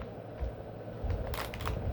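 A few quick crisp snips of scissors cutting twist ties on toy packaging land near the end, close and brief, over a low muffled rumble.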